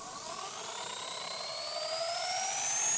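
Compressed-air bottle helicopter spinning on a bearing-mounted string, giving a steady loud whirring hiss with a rising whine that climbs in pitch as it spins up, continuous throughout.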